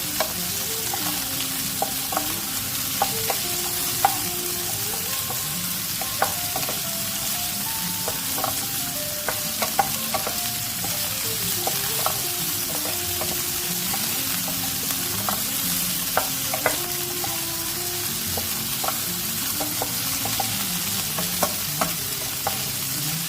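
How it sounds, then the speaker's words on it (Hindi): Okra frying in a pan gives a constant close sizzle, with a utensil repeatedly scraping and stirring it in irregular strokes. "भिंडी को आपने फ्राई कर लेना है कि इसकी जो लेस है वो बिल्कुल ख़त्म हो जाए"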